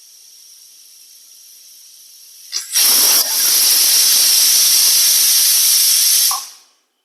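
A pressure cooker cooking fenugreek and broken-rice porridge releases a loud whistle of steam, a sudden sharp burst that settles into a steady hiss lasting several seconds before cutting off.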